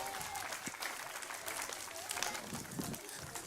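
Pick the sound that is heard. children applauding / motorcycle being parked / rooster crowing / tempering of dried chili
children applauding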